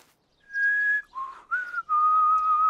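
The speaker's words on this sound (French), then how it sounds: "Oui, je sais siffler." Someone whistles a few clear notes in a children's cartoon: one long high tone, a short wavering pair, then a sustained lower note, alone without talk.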